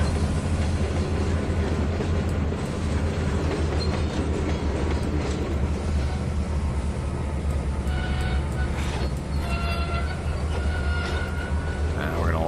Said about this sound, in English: Hear them air brakes.